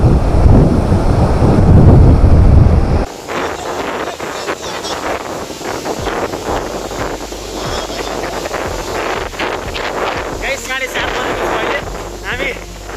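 A loud, roaring rush of falling water from Jalbire waterfall in Chitwan fills the scene, a constant heavy wash with a sudden wind-like burst at the start and someone talking over it.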